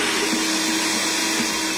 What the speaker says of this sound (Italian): E ora comincio a frullare il tutto.